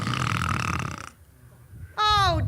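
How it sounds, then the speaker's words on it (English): A man snores in bed in a live radio theater performance, a ragged rasping inhale that fades to quiet, then a sharp, loud nasal snort with wavering pitch. "must you start snoring as soon as you close your eyes?"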